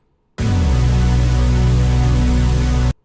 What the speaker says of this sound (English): at the drop I switched to this super saw with the same chords as before